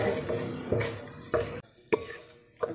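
Whole garam masala spices frying in hot ghee, the same ghee used to brown onions for a matar pulao, give a steady crackling sizzle with a few louder stirring scrapes and pops close up, and no talking.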